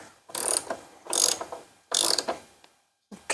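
Ratchet socket wrench tightening a spark plug on a John Deere LA165 lawn tractor, heard as three clear bursts of rapid clicking with short pauses between, then the start of a fourth, close and loud with no talk.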